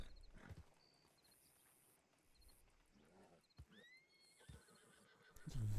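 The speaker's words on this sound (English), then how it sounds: "It's a very angry foxtrotter." An angry foxtrotter horse whinnies and snorts at a distance, faint against a quiet outdoor background with the occasional soft thump.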